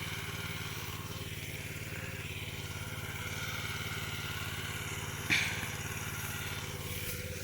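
A steady tractor engine chugs and rumbles continuously at a constant idle, close by in a field being ploughed, with one brief clank partway through.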